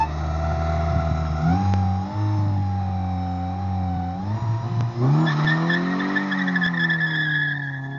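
A Honda car drives with a steady engine drone that shifts pitch as it accelerates, while tires squeal in long sliding tones, loud and close with no talk over it.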